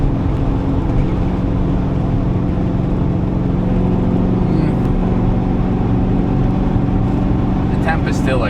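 Porsche 928 engine droning loud and steady on the Nürburgring as revs are held lower, a dense continuous roar filling the cabin with a voice talking over it.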